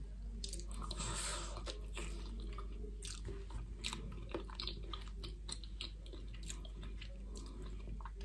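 Crunchy store-bought pizza with a crisp crust being chewed close to the mic, with irregular moist crunches and bites repeating throughout, no talking.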